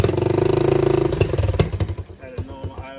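An Apollo 125cc dirt bike engine idles with a steady, rapid putter that breaks into a few uneven pops and fades, while a voice talks over it.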